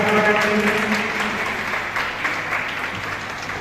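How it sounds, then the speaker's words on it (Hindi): Applause at a Teacher's Day celebration: a crowd claps steadily and evenly throughout, fairly loud and continuous, with no voices standing out. "जोरदार ताली हो जाए।"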